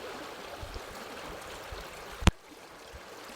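Water from Bhairavakona waterfall rushes in a soft, steady wash from some distance, with a single sharp click or knock just past two seconds.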